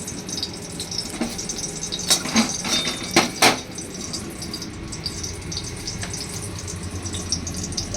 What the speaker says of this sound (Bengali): দেখো, দিয়ে দিচ্ছি তেল